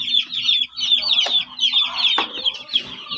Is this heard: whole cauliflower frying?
no